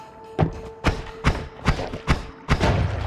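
Bomb-wand explosions in the video game Noita sound as a rapid series of six sharp, punchy thuds, evenly spaced about half a second apart.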